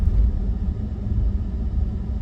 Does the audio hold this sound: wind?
yes